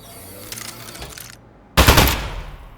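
An Aperture Science Turret from the game Aperture Desk Job fires in rapid bursts. A lighter rattling volley is followed by a brief pause, then a louder, denser stream of automatic gunfire.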